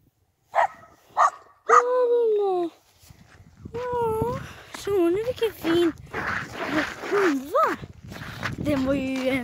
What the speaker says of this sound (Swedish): Ja, nu kommer de större hundarna.